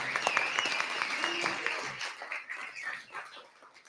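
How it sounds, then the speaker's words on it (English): A crowd at Lansing Brewing claps for its hosts during an evening politics event, the applause fairly quiet and crisp at first, then thinning into scattered claps that fade out over the second half. "how about a big round of applause for the folks here at Lansing Brewing for hosting us tonight"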